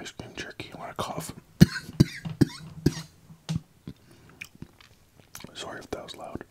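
Close, soft coughs while eating ice cream, a cluster of short bursts in the middle amid whispery mouth sounds and chewing clicks.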